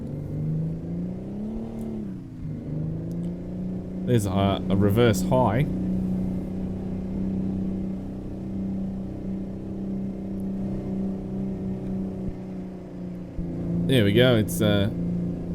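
Peterbilt 351 truck with a 6V-92 diesel in American Truck Simulator, a steady low engine drone running throughout, with someone talking over it and two bursts of higher-pitched revving or gear whine near the start and end.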